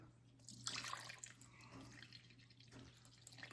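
375 grams of water is poured into a bowl with yeast for bread dough, a soft, close splashing trickle that swells and eases over a few seconds, faint, with no talking.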